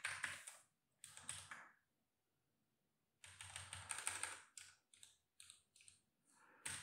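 Bursts of rapid keystrokes on a computer keyboard while writing code, close and clear, with a pause of silence between the first flurries and a longer run of typing afterward, no voices.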